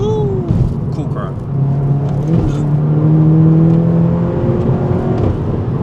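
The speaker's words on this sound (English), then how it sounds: "You can hear the intake sounds. The carbon intake is just fabulous." A 370 hp Stage 1.5 tuned VW Golf 7.5 GTI TCR with a carbon intake accelerates on the road, its intake whir and engine note climbing steadily in pitch as it pulls through the gears.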